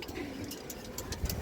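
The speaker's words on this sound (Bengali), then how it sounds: "সিলভার একটা মাদি কবুতর দর্শক" A large female Silver pigeon coos softly in a loft, a few low, murmuring coos over a faint engine-like hum, close and quiet.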